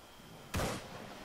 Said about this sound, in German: Ich höre hier schon wieder Schüsse